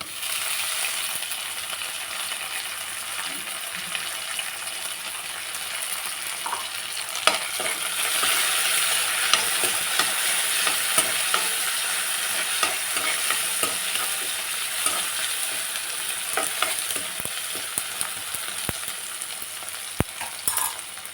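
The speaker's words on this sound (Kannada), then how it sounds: "ಈ ರೀತಿ ಚೆನ್ನಾಗಿ ಈರುಳ್ಳಿ ಫ್ರೈ ಆದಮೇಲೆ ನೆಕ್ಸ್ಟ್ ಇದಕ್ಕೆ ನಾನು ಟೊಮೊಟೊ ಸೇರಿಸ್ತಾ ಇದ್ದೀನಿ" Chopped tomato tossed into fried onions in a pan for restaurant-style upma, stirred with steady scraping and a soft sizzle throughout, with a few sharp clinks of the utensil against the pan.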